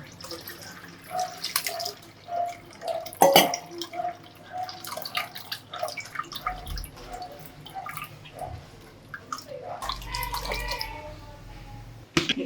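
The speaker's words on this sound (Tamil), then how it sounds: "இப்போ வந்து புளி தண்ணியை வந்து அது கூடவே ஆட் பண்ணி வடிகட்டிக்கலாம்." Tamarind water for pani puri is poured and strained, giving a quiet, close trickle with scattered drips and small splashes over about twelve seconds, with no talking.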